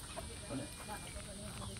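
Chickens eating cluck softly at a distance in the mountains, short scattered calls over a steady outdoor hum, with a little background chatter.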